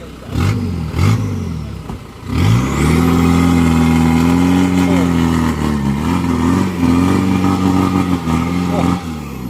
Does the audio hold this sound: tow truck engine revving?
yes